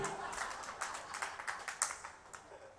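A single man in the audience at a Jain monk's sermon claps for himself, with quiet, distinct claps in an uneven rhythm over faint room noise.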